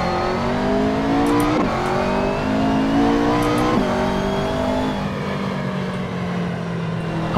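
Car engine in a racing video game revving steadily while driving in rain, with repeated rising gear-shift sweeps that drop and climb again, loud and continuous throughout.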